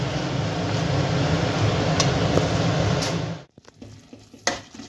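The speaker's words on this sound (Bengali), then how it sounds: "কিছুক্ষণ জল দিয়ে ফুটতে দেব, ততক্ষণে আলু আর মোচাটা আমার সিদ্ধ হয়ে যাবে।" Banana flower and potatoes boiling in water in a pot for mochar ghonto: a steady, close bubbling hiss runs for several seconds, then cuts off to near quiet with a few faint clinks.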